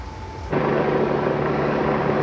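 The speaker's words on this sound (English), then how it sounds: "The chopper's back." A steady low rumble swells in after a moment and holds, a broad whooshing drone of a helicopter passing overhead, with no talking.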